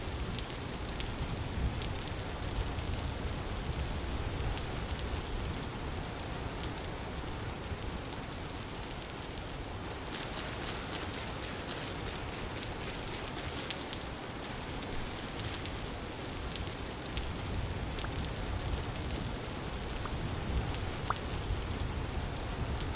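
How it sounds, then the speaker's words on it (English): Steady rain pours down in the survival game Vintage Story, a dense continuous hiss that fills the scene at even loudness throughout, with a brighter, heavier burst of rainfall partway through and no talking. "Oh, more rain. Nice. I love rain."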